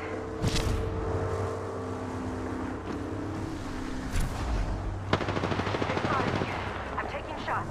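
Gunfire crackles in an Apex Legends Arena Mode match on PS5, with rapid automatic bursts and sharp single shots over a steady engine-like drone, fairly loud but partly buried in game noise.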